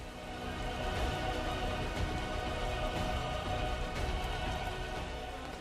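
Heavy rain in Shopian, a dense, constant wash of falling water and drops on surfaces, steady and fairly faint with no voices.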